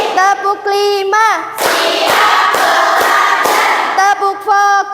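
A class of students claps out a rhythmic pattern together in a classroom, a run of sharp, closely spaced claps in the middle with chanting children's voices before and after.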